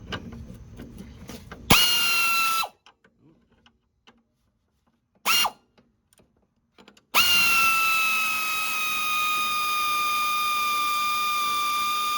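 A power tool loosens a lower control arm bolt on a 2003–2007 Honda Accord, its whining motor running in two loud bursts separated by silence and a brief blip, then a long sustained run to the end.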